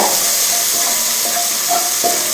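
Onion frying until golden in a pan, a steady hiss of sizzling oil with a few soft spoon scrapes, close and continuous with no talking.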